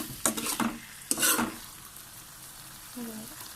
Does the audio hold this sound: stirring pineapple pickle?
yes